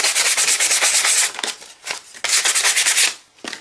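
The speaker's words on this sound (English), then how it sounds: "just rough it up a little to get the high spots of any corrosion off" A metal Tootsietoy body being roughed up with 100-grit sandpaper to remove corrosion, with rapid, close, rhythmic rasping strokes in two long bursts and short pauses between them.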